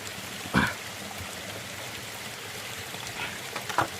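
A steady, dense hiss of heavy rain pours continuously, with a couple of brief louder knocks breaking through the wash.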